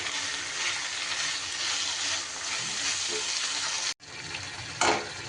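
A paneer mixture fries in a pan with a constant, close sizzle while it is stirred, broken by a brief cut near the end and a short burst of louder frying, with no talk.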